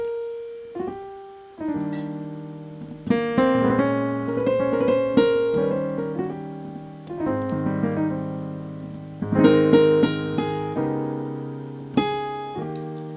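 Keyboard playing a soulful, saxophone-style melody with notes gliding upward into place over sustained chords, alone and clear, phrases separated by brief pauses.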